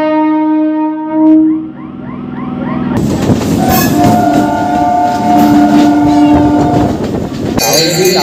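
A train passes near Eden Garden railway station in Kolkata. It opens with a loud, sustained horn, then a close, heavy roar of rolling wagons and clattering wheels that swells and holds without talk.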